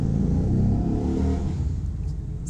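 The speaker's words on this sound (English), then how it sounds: "if you didn't hear that motorbike again" Motorbike passing by outdoors, a low rumbling engine that swells and then fades over a couple of seconds as it moves away.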